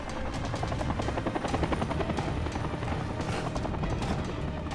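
Helicopter in the video game Dying Light Bad Blood, a loud continuous rotor thump with rapid rhythmic chopping, close and steady throughout, alone without talk.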